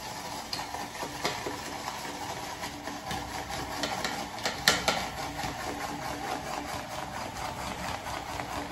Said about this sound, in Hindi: So let's create the lather